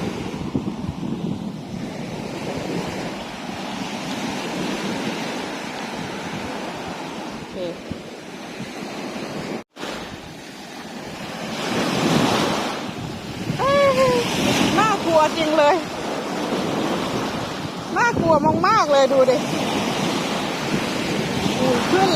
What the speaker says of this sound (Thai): คลื่นมันใหญ่จังเลยอ่ะ มันน่ากลัวมากเลย